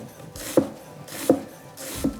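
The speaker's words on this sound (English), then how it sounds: "And you can see that it just glides through the onion." A cook's knife slices through an onion on a cutting board in three even strokes, each a soft slicing swish that ends in a light tap on the board, close and quiet with no talk.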